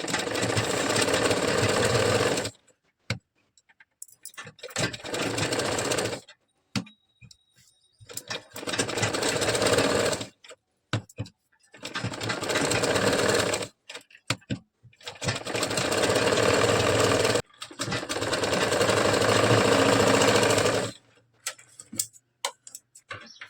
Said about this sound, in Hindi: तो दोस्तों इसमें बड़ी सिलाई चलानी है ताकि हम जल्दी से जल्दी सिलाई चला सकें।